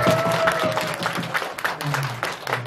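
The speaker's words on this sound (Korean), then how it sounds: "우리 정섭이 박수 한번 쳐주세요" Concert audience clapping for a pianist at a live performance, a short burst of applause with some voices mixed in, fading within a few seconds.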